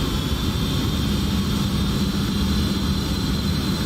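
Constant whine and roar of the jet engines on an Embraer E145XR regional jet in X-Plane, heard from outside the aircraft as a steady, loud, unbroken drone.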